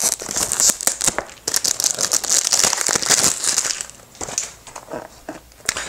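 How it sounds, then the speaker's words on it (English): Cellophane wrapping being pulled off a La Rive eau de parfum box: close, loud crinkling and crackling plastic in rapid bursts, easing briefly before more rustles resume. "Now we're unwrapping this."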